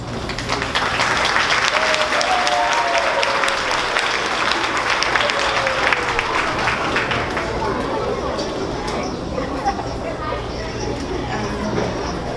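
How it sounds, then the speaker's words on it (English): Audience applause at a school's fifth-grade promotion ceremony: sustained, dense clapping from a large crowd that runs steadily for about twelve seconds, with faint voices murmuring underneath. "if you could please hold your response, your clapping"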